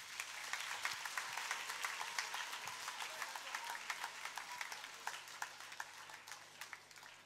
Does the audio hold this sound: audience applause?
yes